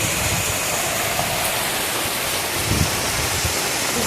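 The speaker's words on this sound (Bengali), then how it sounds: "এই পাশে দেখো প্রচুর পরিমাণে বৃষ্টি হচ্ছে" Heavy rain pours down steadily, a dense, continuous broadband rush close by, with a few faint thuds underneath.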